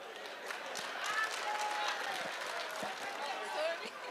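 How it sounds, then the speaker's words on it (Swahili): Applause fills a public security forum in Kakamega County, a steady scattered clapping from a crowd, moderately distant, with voices talking over it throughout. "Asante, wapigiwe makofi"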